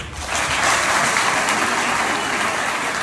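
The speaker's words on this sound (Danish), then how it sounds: "Eller I kan klappe, hvis I synes, at Preben skal tage til festen" Studio audience applauding together as a show of support in a Danish advice segment, a dense, steady wash of clapping that holds at full loudness for about three seconds without talk.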